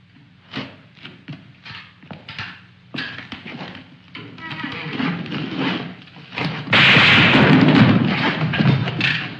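Sharp bangs and thuds of gunfire in a 1953 film, irregular and scattered, grow into a louder, denser roar of shots and rumbling near the end.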